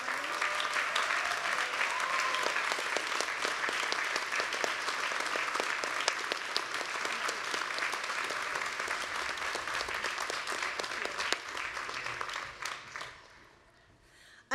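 Long, steady applause from an audience at a university ceremony honoring retiring faculty, dense and continuous for many seconds before tapering off near the end.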